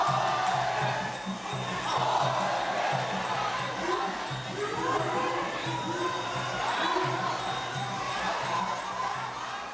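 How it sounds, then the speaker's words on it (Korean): A large crowd roars and cheers around a Thai boxing ring, a dense, continuous wash of excited voices at steady loudness throughout. "아이들의 고통을 보면서 열광하는 관중들"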